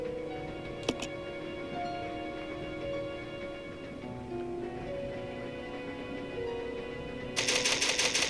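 In Resident Evil 0 HD, the save typewriter clacks in a quick, loud burst of rapid keystrokes at the very end, after a stretch of sustained ambient game music with a single sharp tick early on.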